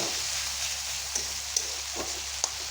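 Shrimp and onion sizzle steadily in a hot pan, a continuous close frying hiss with a few sharp pops and stirring scrapes, no talking.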